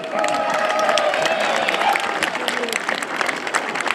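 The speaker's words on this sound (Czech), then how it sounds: "Takže potlesk ještě aj pro Honzu Žurka" Crowd applause at a Hanák folk gathering in Tovačov, steady dense clapping throughout with a held tone and voices murmuring underneath.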